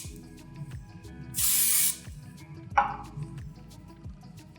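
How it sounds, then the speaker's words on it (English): Short burst of Kenra Dry Volume Burst aerosol spray misted onto hair roots, one steady hiss of about half a second, followed by a softer sputtering spray over faint background hum. "You can also use the Kenra Dry Volume Burst, and I just spray this"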